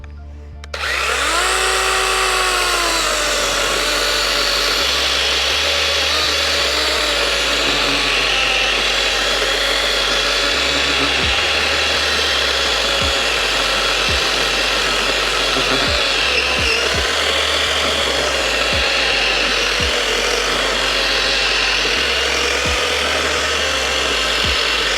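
A DeWalt DCCS620 cordless chainsaw starts with a rising whine and then saws steadily through wood for a long stretch, its electric motor droning loud and close with small dips in pitch as the chain bites.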